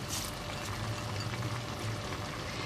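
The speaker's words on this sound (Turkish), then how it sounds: "Şimdi pirinçlerimi ilave ediyorum üzerine." Dry rice poured into a pot over cooked purslane, a steady continuous rushing patter of grains landing on the soft greens, close and fairly quiet, with no talk.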